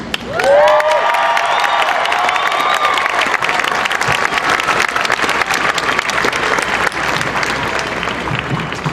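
A large crowd at the 2016 Texas Rally for Life in Houston breaks into loud, sustained applause with whoops and cheers welling up from the start, continuing steadily for the whole stretch.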